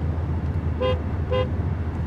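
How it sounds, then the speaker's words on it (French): Two short, close toots from the horn of an Alpine A110 R car, a thin, bright beep repeated about half a second apart over a steady low engine and road rumble. "le klaxon d'une Alpine A110R"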